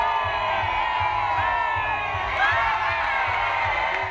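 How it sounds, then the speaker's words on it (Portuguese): A crowd of protesting teachers at an outdoor demonstration in a town square boos the Assembly, a sustained mass of voices with shouts and whoops over a rhythmic low thumping. "Os professores deram uma vaia à Assembleia."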